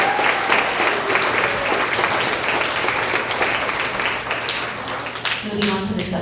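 A crowd claps for science award winners at a 6th to 8th grade end-of-year school assembly. The applause is loud, dense and sustained, with a few voices rising near the end.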